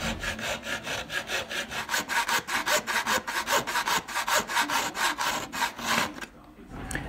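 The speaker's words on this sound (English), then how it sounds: "Here, using a razor saw, John's carefully sawing along those lines" A razor saw cuts at a 45-degree angle through a Clupet piston ring, making steady rapid rasping strokes, close and fairly loud, that stop abruptly near the end.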